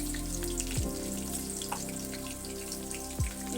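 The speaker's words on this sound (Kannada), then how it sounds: "ಈರುಳ್ಳಿ ಹಾಕ್ಕೊತಾ ಇದ್ದೀನಿ." Onions sizzle steadily in hot oil in a pan for fish curry, a close, continuous crackling hiss with no talk, accompanied by faint background music.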